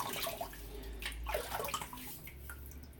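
Water runs and splashes as a shaving brush head is wetted, a close, moderate, continuous flow with some watery spatter.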